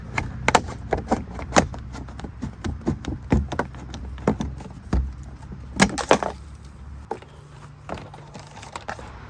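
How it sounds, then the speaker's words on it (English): Tin snips cutting through plastic vinyl siding over a bathroom window, a series of sharp close snipping clicks in an uneven rhythm, with no talk. "They actually will cut just like scissors going right through a plastic product."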